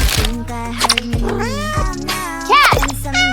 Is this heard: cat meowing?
yes